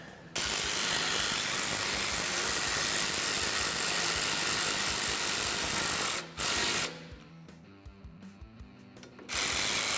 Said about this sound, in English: we'll start the other 2 screws and fully tighten them in an X pattern